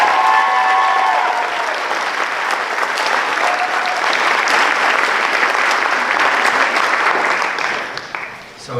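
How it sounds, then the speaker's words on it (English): A concert audience at a high school band concert applauds the seniors with loud, sustained clapping that stays full and even for about eight seconds before dipping briefly at the end. "could we give one more round of applause to all of our seniors?"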